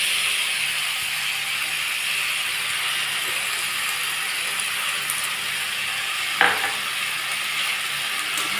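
Flat beans and potatoes are being sautéed with poppy seed paste in a pan, giving a continuous close sizzle with scraping stirs. One louder knock of the spatula comes partway through, and no one speaks.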